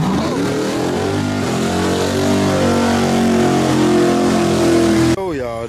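Drag race cars Kodak and Silver Bullet at a grudge race, revving with a loud, sustained engine roar that climbs in pitch and then cuts off sharply near the end.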